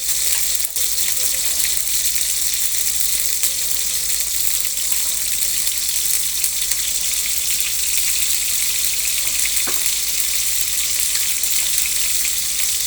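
Pointed gourd (potol) frying in a pan, a steady bright hiss of sizzling oil running throughout at even loudness.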